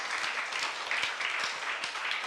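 Church congregation applauding together during a youth-group sermon, a steady wash of many hands clapping at moderate distance, continuous with no speech over it.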